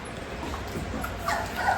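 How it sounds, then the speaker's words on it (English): A goldendoodle puppy whimpers and yips softly, brief faint whines rising toward the end over quiet room noise during puppy care and deworming. "Last puppy, we've got Nougat"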